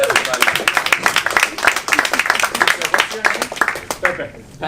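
An audience at a climate-change comedy roast claps in a dense, lively burst, loud and close, with voices mixed in before it tapers off at the end.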